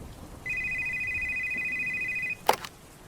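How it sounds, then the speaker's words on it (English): A telephone rings once at a pizza restaurant at night, a steady electronic tone lasting about two seconds, followed by a brief click as the handset is picked up. "the phone started ringing."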